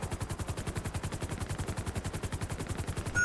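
Rapid automatic gunfire rattles out in an even, continuous burst during a bank robbery in a video game, each shot sharp and close, holding a steady rhythm throughout.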